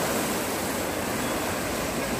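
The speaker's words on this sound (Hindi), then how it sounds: "अब देख रहे हैं ना लहर" Ocean waves at Bandstand, Bandra in Mumbai wash against the rocky shore as a dense, steady roar of surf heard up close.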